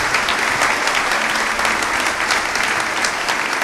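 A church congregation gives sustained, dense applause, loud and close, with a steady wash of many hands clapping from start to finish.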